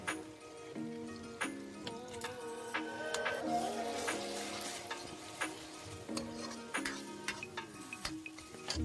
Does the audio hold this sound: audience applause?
no